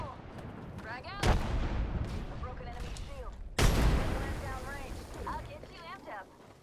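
Two loud frag grenade explosions go off a couple of seconds apart in the shooter game Apex Legends, each a sharp blast that rumbles away, over continuous game noise and a player talking.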